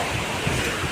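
Heavy rain and strong wind in a village storm roar as a loud, steady, close wash of noise with no break and no talking.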